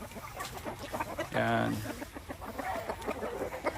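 A Shamo Aseel gamecock at a camp in the Philippines gives a short burst of clucking close by, set among other fowl and farm sounds, with someone talking over it.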